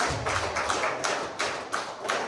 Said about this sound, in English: You can give him a hand clap. Clap for Jesus.